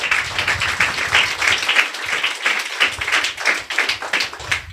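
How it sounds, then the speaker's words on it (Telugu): A church congregation at a Sunday service claps together in a dense, steady wash of applause that stays loud and close for the whole stretch, with no pauses. "చప్పట్లు కొట్టండి"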